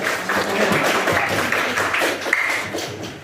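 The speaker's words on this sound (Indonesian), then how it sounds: "Tepuk tangan Mbak" A classroom of students clapping together, a dense, brisk round of applause that holds steady for a few seconds.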